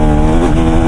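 A KTM Duke 390 motorcycle with a clutch problem revs close by, its engine giving a loud, rough, uneven growl for under a second.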